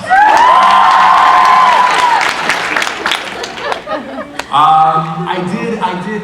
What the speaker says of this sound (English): I'm gonna say this just to get an applause right now